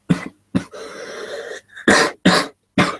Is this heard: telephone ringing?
no